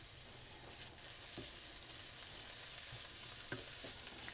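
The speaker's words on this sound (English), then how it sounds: "Now I fry the bacon first, because then hopefully we can get some of that nice bacon fat" Bacon frying in a pan gives a steady, close, bright sizzling hiss that runs unbroken throughout, with a few faint pops and ticks scattered through it and no voices.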